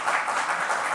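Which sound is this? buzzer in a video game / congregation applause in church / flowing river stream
congregation applause in church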